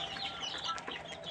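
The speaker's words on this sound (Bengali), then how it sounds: "3 দিনের দেশি মুরগির বাচ্চা" Three-day-old native chicken chicks cheep at a farm and hatchery in soft, high, overlapping peeps that are quiet but steady throughout, with no talk.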